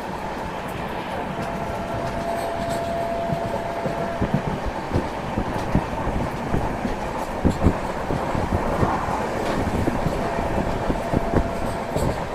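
The 13149 Kanchan Kanya Express runs from Kolkata toward Siliguri in foggy weather, heard from inside the coach as a continuous low rumble with faint rhythmic clacks and knocks throughout, fairly quiet and with no talking.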